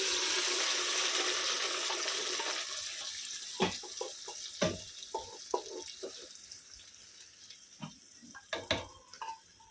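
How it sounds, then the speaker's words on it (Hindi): A pressure cooker is rinsed under a running tap in a home kitchen while cooking Konkani dal and rice: a steady hiss of flowing water at first, then scattered clanks and splashes of metal being handled in the sink. "अभी कुकर धो के थोड़ा सा पानी लगाएंगे।"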